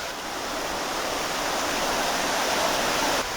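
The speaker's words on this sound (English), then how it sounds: "I know on this side you can hear the water rumbling along the underground channels." Water rumbling through underground rock channels beneath broken rock beside a river inlet, a steady, dense rushing roar that holds constant and close for the whole stretch, with no voices.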